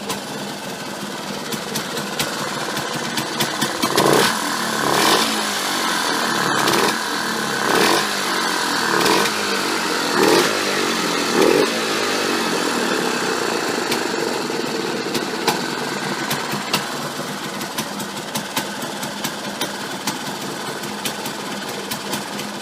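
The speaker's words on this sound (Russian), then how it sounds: "самый мощный и быстроходный 250-кубовый мотоцикл с двухтактным двигателем" A 250cc two-stroke motorcycle engine running steadily with a buzzy, high-pitched rattle, revving up and down a few times, close and loud throughout.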